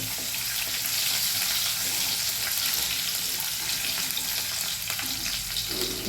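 Garlic paste sizzles in hot oil with curry leaves and cumin, a steady close hiss of frying that runs unbroken with no talking.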